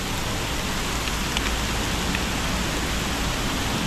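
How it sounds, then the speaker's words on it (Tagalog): Heavy rain pours steadily beside a river in the Philippines, a dense, uniform hiss of water striking surfaces with no pauses, loud and close throughout. "Tingnan niyo po ang ulan, kalakas."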